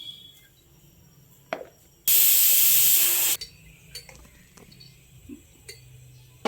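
A mixer grinder blending spices, ginger, garlic and onions for a masala peas curry runs in one loud, steady burst of about a second and a half, with quiet kitchen clatter and faint knocks before and after.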